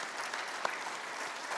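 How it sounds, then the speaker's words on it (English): Audience applause at a breadfruit conference opening ceremony, a steady wash of clapping from a seated crowd, fairly soft and even throughout with one sharper clap standing out. "give them a round of applause for this"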